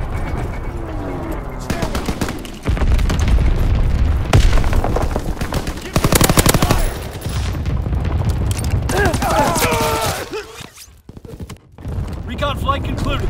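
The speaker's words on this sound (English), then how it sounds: "Anti-aircraft battery in position" Anti-aircraft battery firing in the Call of Duty: WW2 video game, loud bursts of rapid gunfire and booms that come and go over several seconds, mixed with game voices and other battle noise.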